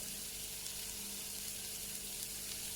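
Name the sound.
onions sautéing in a pan with salt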